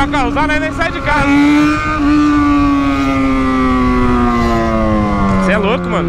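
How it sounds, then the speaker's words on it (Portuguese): Loud Yamaha XJ6 motorcycle riding nearby, its engine a strong steady drone that slowly falls in pitch as it eases off, with brief revving swells near the start and end. "Que moto escandalosa"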